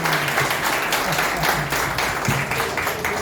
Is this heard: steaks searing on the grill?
no